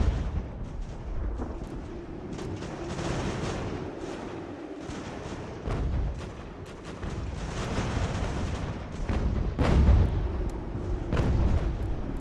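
Cannon and artillery fire in the strategy game Ultimate General: American Revolution, with repeated low booming blasts rumbling continuously under a dense battle din, a few heavier thumps standing out near the end.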